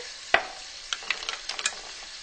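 Clams and a tablespoon of butter going into a hot pan, a sharp clatter followed by light crackling sizzle and scattered stirring clicks, close and fairly quiet, with no talking.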